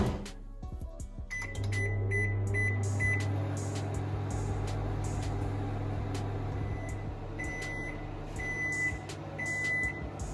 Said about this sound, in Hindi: इसको मैं रख देती हूँ 5 मिनट्स के लिए माइक्रोवेव में